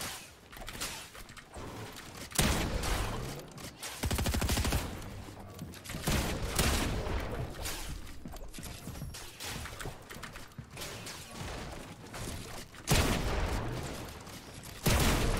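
Rapid bursts of automatic gunfire from a Fortnite-style shooter game, loud volleys repeating in clusters across the span with brief gaps, mixed with game mechanism clatter and occasional impact crashes.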